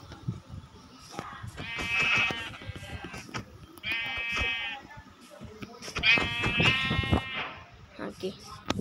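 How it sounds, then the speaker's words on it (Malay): Sheep in the video game Minecraft give several distinct bleats in short bursts, heard over a person talking and some clicking game noise. "Ni mangsa kedua kambing."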